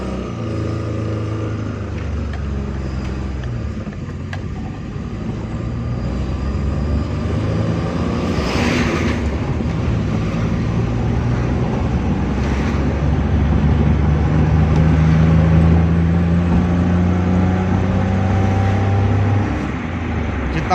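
A petrol car runs on the road with its fuel pump bypassed. Steady engine drone and road rumble build slightly as it accelerates and continue without a break.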